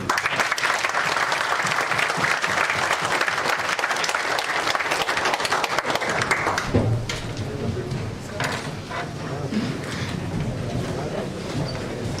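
A large audience at a live IIT Patna event claps in loud, continuous applause for several seconds, then the clapping thins and fades into softer scattered claps and room murmur.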